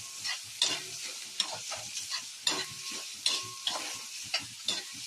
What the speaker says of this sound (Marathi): आता कांदा टाकेल. छान परतून घेऊया.